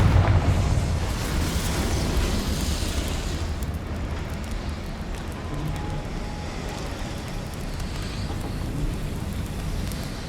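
A Confringo fire spell explodes in Hogwarts Legacy, a dense, booming blast that rolls into a long rumbling roar, loud and sustained, fading only slightly over several seconds.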